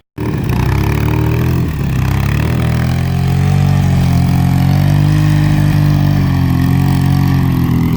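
A Polaris 800 UTV with a 12:1 high-compression Wiseco top end and new 31-inch Motohavok tires runs steadily nearby, its engine a continuous loud drone with slight rises in revs throughout and no talking.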